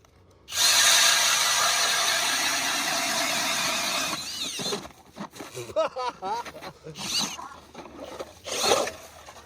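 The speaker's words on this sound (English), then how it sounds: "I've put together with a 24-volt drill, battery operated, and attach it to my auger." A 24-volt battery-powered cordless drill drives an ice auger through lake ice with a loud steady grinding whir for several seconds, then stops, and someone speaks.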